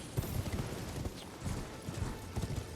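A horse gallops in Elden Ring with steady, rapid hoofbeats drumming at close range over a broad rushing game background.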